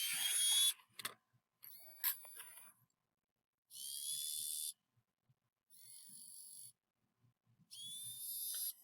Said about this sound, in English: And you see the motor doing the different speeds.